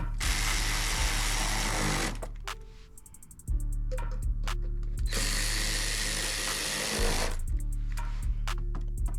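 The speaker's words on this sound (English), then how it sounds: "Bring out the power drill." A loud power drill driving bolts on a car rocker panel whirs in long bursts, pausing once and winding down to short buzzing pulses, close by with no talk.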